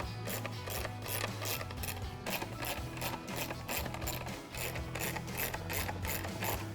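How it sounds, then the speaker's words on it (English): Screws being backed out of a marker light housing on a 2015-2020 Ford Mustang, a steady run of fast ratcheting clicks from a hand tool, close and continuous with brief pauses, no talking. "We're going to remove all these screws so we can access the marker light."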